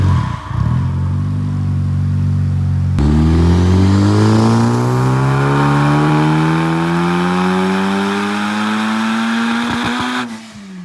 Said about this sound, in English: very first time that we will be dynoing our FL5 Civic Type-R